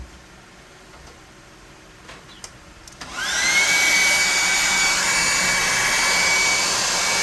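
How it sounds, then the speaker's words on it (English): A hair dryer switches on partway through and blows steadily and loudly on a primitive model tower for a tabletop RPG, with a high whine over a broad rushing roar. "hit this with a hairdryer"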